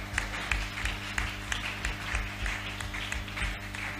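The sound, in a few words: applause from a church congregation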